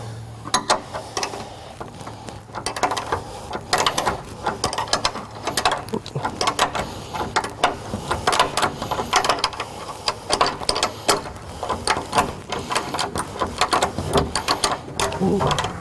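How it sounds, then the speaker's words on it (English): A wrench tightening nuts on a Tonno lid kit on a ute, steady rapid ratcheting clicks in continuous runs, close and busy, with faint voices in the background. "what I'm doing here is just tightening up all the nuts now"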